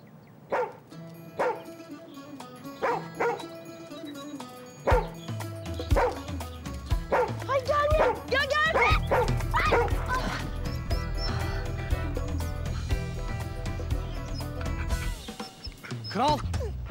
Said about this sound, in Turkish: Al şu köpeğini başımdan.